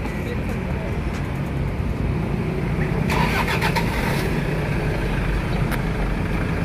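A tour vehicle's engine starts and settles into a steady idle on a trip to Coral Island in Pattaya, Thailand, close and continuous with a brief clattering burst partway through.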